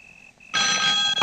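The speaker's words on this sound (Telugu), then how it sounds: "ఈ టైంలో ఫోన్ మోగుతుందంటే ఎవరితో ఎవరి కోసం ఫోన్ చేసి ఉంటుంది" A telephone rings loudly and close in a comedy film scene, a short burst of bright electronic ringing after a moment of near silence.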